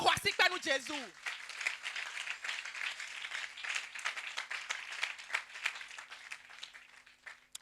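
A church congregation applauds to acclaim Jesus, a sustained crowd clapping at a moderate distance that follows a brief spoken voice at the start.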